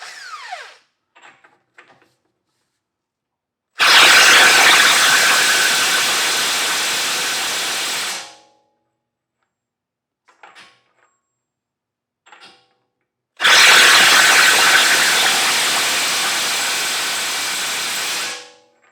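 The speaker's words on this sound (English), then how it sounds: "use an impact wrench and a larger 1/2-inch impact wrench, because these are pretty tight" A 1/2-inch pneumatic impact wrench on a tight CV axle nut, two long loud hissing, hammering bursts of about four to five seconds each, separated by near silence with a few faint clicks.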